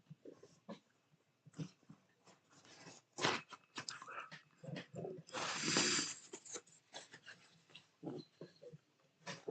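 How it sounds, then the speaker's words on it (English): Dogs barking, whimpering and snuffling in the background during a tornado outbreak livestream, a scattered run of faint yips and breathy bursts with one louder burst midway. "So if you guys hear dogs barking in the background."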